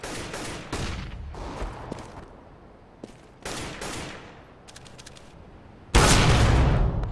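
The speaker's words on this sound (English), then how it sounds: "I'm throwing a flashbang." Flashbang grenades and gunfire in a CS:GO match, with several sharp bursts and a loud blast near the end standing clear of quieter game noise.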